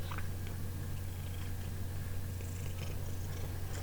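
A cat purrs steadily and closely, a continuous low rumbling drone with faint rustles over it.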